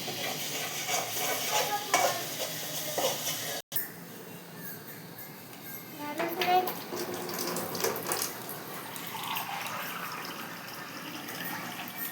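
Onion frying in a pan with garlic-ginger paste for a patodi vegetable dish: a steady close sizzle with stirring scrapes and a brief dropout, no talk.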